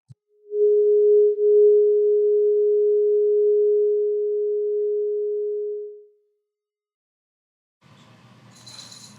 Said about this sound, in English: I'd take this tuning fork, which is 417 hertz, and go like this